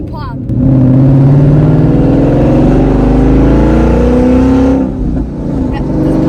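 A Ford Mustang S550 fitted with a straight H-pipe exhaust revs hard close by, its engine tone rising through gears with crackling pops between shifts, loud and raw, with voices partly heard over it.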